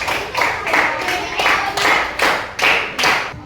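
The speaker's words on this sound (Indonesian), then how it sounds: "Tepuk tangan untuk kelompok." A small group of fourth-grade schoolchildren claps together in a classroom in a rhythmic pattern, with even bursts of hand claps repeating steadily.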